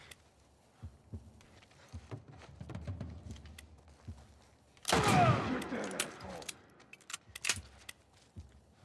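Ellie fires a gun in The Last of Us Part 1: sparse sharp cracks, then a loud burst of shots midway, followed by more scattered reports, all over quiet game ambience with faint voices.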